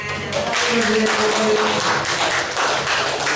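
Applause from a group at a school teachers' meeting, a brief steady patter of clapping, moderately loud, with faint voices and hum beneath it.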